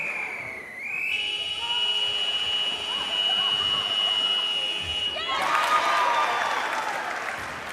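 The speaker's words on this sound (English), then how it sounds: "the clock in the arena went from 5 seconds to none, but the buzzer went" A long electronic buzzer sounds in a netball arena at the end of a Netball Super League quarter, holding steady for several seconds before it cuts to applause and crowd cheering.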